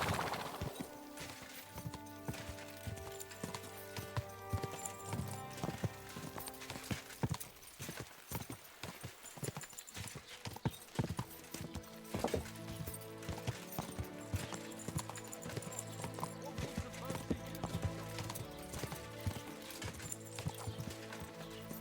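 Rhythmic hoofbeats of a horse in Kingdom Come: Deliverance 2 clip-clop steadily throughout, mixed with dense game music and sound effects, with occasional sharp impacts.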